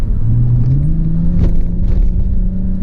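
A 2006 Mazda 6 car takes a right-hand corner, its engine and road noise forming a steady close rumble with a low engine tone rising slightly as it pulls through the turn.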